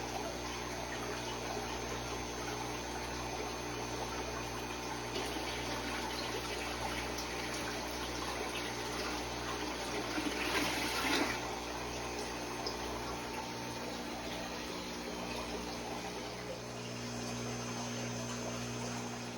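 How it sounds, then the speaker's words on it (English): Water splashes and gushes as a large fish is tipped from a tub into an aquarium tank in a fish room, a steady wash of pouring water over a constant pump hum, with one louder surge of splashing midway. "We're just gonna dump her in the tank real quick."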